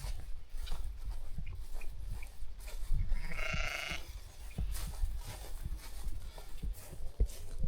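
On a farm with cows nearby, a ram or sheep gives a single short bleat midway through. The call sounds moderately distant over constant low rumbling and shuffling farmyard noise.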